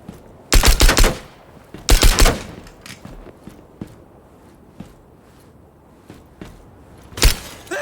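Gunfire in the tactical shooter game Ground Branch during a terrorist hunt: two loud sustained bursts near the start, then scattered faint shots and a final sharp burst, with no talk.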